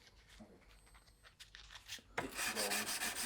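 A chef's knife blade is rubbed by hand with sandpaper on a small G10 backing block, soft scratchy strokes building into a louder, continuous rasp, close and quiet, no talk.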